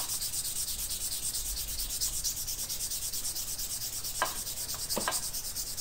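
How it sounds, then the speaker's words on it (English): A knife handle being sanded by hand with 1200 grit sandpaper, a steady, soft rhythmic rubbing hiss with a few faint knocks near the end, close and without talk. "I'm just going to hit it with some 1200 grit sandpaper."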